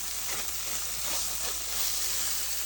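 A quesadilla of tortilla and cheese frying on a grill as a spatula presses it down, giving a steady, close sizzling hiss with soft swells of crackle throughout and no voices.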